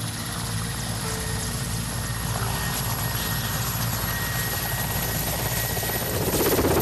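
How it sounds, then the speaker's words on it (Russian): A helicopter flying to the mountain village of Pskhu in Abkhazia drones steadily throughout, its rotor and engine roar loud and continuous, swelling slightly toward the end. "сюда прилетают из Сухума самолеты и вертолеты"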